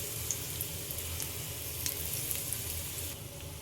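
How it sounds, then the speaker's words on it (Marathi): Coriander vadi shallow frying in hot oil, giving a steady, close sizzle that holds even throughout with faint crackles and no talking. "मी इथे शलो फ्राय करून घेते आता आपण एक एक वडी आपण तेलामध्ये सोडून ठेवूया"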